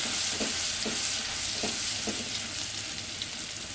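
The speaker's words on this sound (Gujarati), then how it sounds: "લસણને બરાબર સાતળી લેવાનું।" Garlic sautés in hot oil with mustard seeds, a steady close hiss and sizzle broken by several soft spoon strokes against the pan, with no one talking.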